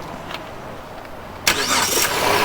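A 2008 Chrysler Town and Country minivan at a car auction cranks over, a quiet lull then an abrupt loud burst of starter whir and engine churn close by that continues steadily.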